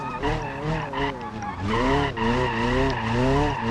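A car drifting in the video game BeamNG.drive, with sustained, wavering tire squeals that rise and fall in pitch over engine noise, loud and nearly continuous with brief breaks.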